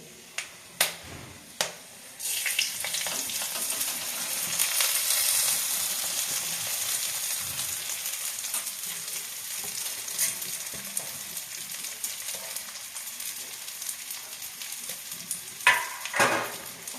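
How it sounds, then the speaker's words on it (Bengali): Marinated rice for pulao fries in ghee with a steady, moderately loud hiss, opening and closing with a few sharp taps of a spoon against the pan. "এবারে আমরা ভালোভাবে এই চালটাকে ভেজে নেব ঘিয়ের মধ্যে"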